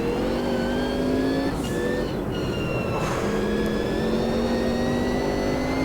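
A Group C race car engine in the game Automobilista 2 drones steadily at high revs, its pitch sliding up and down with gear shifts, continuous and fairly loud.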